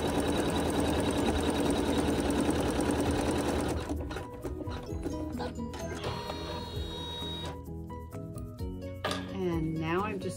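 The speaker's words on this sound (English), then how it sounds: "I just picked the black thread, and the machine will sew a seam for us." Sewing machine stitching a seam with black thread, a steady close whirring run for about four seconds, followed by quieter handling noise and faint clinks.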